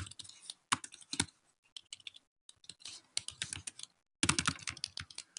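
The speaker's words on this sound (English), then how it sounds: "The other option would be to just start typing here." Bursts of rapid keyboard typing, close and crisp, broken by short pauses between runs of keystrokes.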